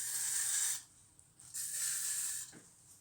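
Two long, close bursts of hairspray hissing onto dried pampas grass, the first lasting under a second and the second longer, separated by a quiet pause.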